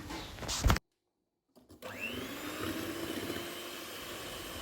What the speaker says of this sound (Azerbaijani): Sadəcə qarışana qədər yüngülcə mikserlə keçirik.